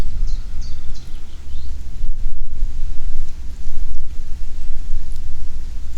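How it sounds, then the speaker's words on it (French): Outdoor wind rumbles steadily and fairly loudly across the whole stretch, with gusty low-end buffeting on the microphone and no talk over it. "C'est agréable, ce vent."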